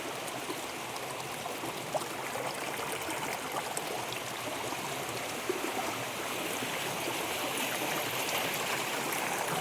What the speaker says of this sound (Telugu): ఇక్కడ వాటర్ అనేవి చీలికలు చీలికలుగా ఏర్పడి వస్తున్నాయి